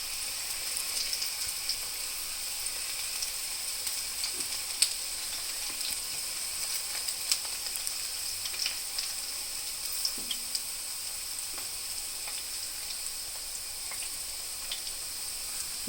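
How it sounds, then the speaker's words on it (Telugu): Okra (ladies finger) mixed with a sticky coating frying in hot oil, a steady dense sizzle with scattered crackles and pops, close and continuous throughout, no voices. "బెండకాయ కలిపినవి మిక్స్ చేసిందంతా ఇలా నూనెలో ఆయిల్లో వేసేయాలి."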